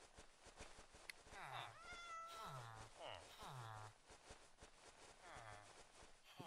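A cat in modded Minecraft 1.18.2 meows several times in quick succession with clear, rising and falling cries, heard alongside game footsteps and a person talking.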